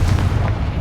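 Confringo, a fiery blasting spell in Hogwarts Legacy, lands as a short, punchy boom with a low rumbling burst that fades quickly.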